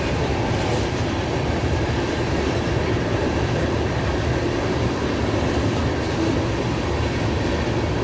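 A freight train of tank cars rolls steadily past, a loud continuous rumble with rhythmic wheel clatter and faint squeals throughout, heard close alongside the track.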